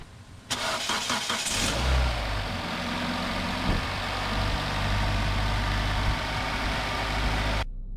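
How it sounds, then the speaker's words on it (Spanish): A car with a failing MAP sensor cranks briefly and fires up, then settles into a steady, loud idle close by, with the engine drone continuing until it is abruptly cut off. "voy a arrancar el vehículo y vamos a ver lo que pasa"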